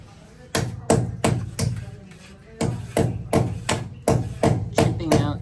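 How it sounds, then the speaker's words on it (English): A hammer drives a nail to chip concrete for conduit during house construction in the Philippines: a steady series of sharp, ringing metallic strikes, close and loud, about a dozen blows in uneven bursts with a short pause midway. "chipping out using the old-fashioned way, the nail and hammer."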